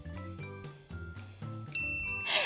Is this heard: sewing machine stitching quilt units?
no